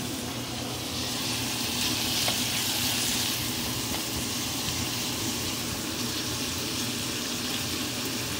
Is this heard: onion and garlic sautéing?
yes